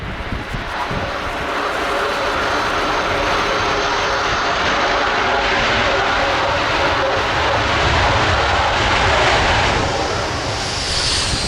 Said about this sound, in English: That looks like full thrust reverse to me.